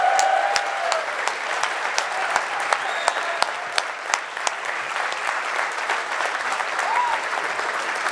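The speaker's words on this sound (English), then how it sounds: "How about one more round of applause for Brother Plumeri?" Audience at a talk giving a full round of applause, dense steady clapping throughout with a few louder individual claps and a voice briefly heard over it.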